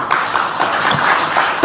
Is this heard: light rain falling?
no